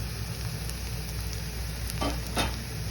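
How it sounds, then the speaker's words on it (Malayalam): Turmeric powder being stirred into curry frying in a pan, with a steady close sizzle and a few scraping strokes of the spoon toward the end. "അതും ഇനി നന്നായിട്ടൊന്ന് ഇളക്കി കൊടുക്കണം ഒരു മിനിറ്റ് ഒന്ന് ഇളക്കി കൊടുത്താൽ മാത്രം മതി"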